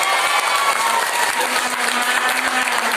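Sustained applause from an audience gathered at an Islamic boarding school, steady dense clapping filling the clip at close range with no talk over it.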